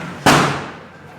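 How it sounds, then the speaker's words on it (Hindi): A single sharp Diwali firecracker bang goes off outside, loud and sudden, then decays over about a second. "हर तरफ रोशनी और पटाखे का शोर बहुत ज़्यादा सुंदर लग रहा है।"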